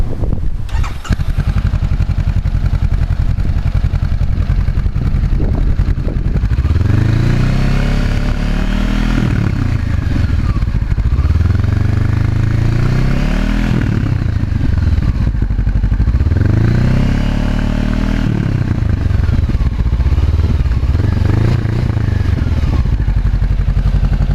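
A Honda CB500-series motorcycle with a LeoVince GP Corsa exhaust and dB killer fitted runs loud and close, its deep exhaust rumbling in repeated surges as the throttle is blipped, with no voices.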